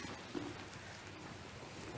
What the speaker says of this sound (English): The rain's dying down a little bit so we can move out.